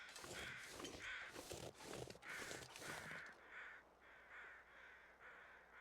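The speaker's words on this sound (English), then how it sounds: "I hear crows, though. Where's the crows at?" Crows caw in The Long Dark survival game, a string of loud, rasping calls in quick succession, then a steady, evenly spaced run of fainter caws, with no speech.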